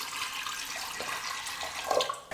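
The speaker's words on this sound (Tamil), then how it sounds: "பருப்பு வேகிறதுக்காக தண்ணி சேர்த்துக்கலாம்." Water pours steadily into a pressure cooker holding rinsed chana dal, a continuous splashing, gurgling stream heard up close with no voices.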